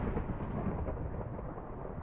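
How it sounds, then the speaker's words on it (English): A thunder rumble from a thunderstorm attack in the video game Tensura: Advent of Magic rolls on as a dense, steady low roar with no voices. "Thunderstorm, yeah, thunder."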